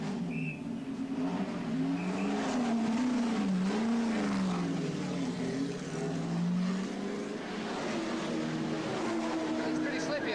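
Aston Martin Nimrod works race car running at Le Mans in 1982, its engine a steady, continuous drone with shifting pitch throughout, heard from onboard or close by.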